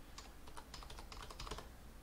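Computer keyboard keys pressed in a quick irregular run of close, crisp clicks while playing Rust, with no voices over them.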